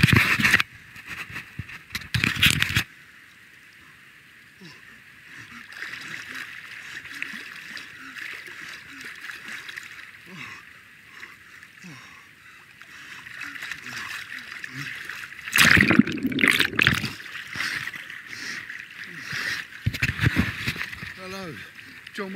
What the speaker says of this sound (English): I'm in the River Ripple in Lancashire. This is incredibly fast flowing.